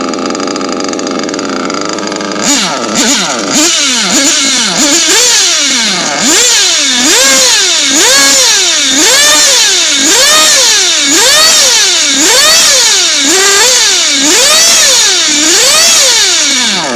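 A motorcycle engine starts and then revs up and down again and again in steady swells to high revs, loud and close, with no talking.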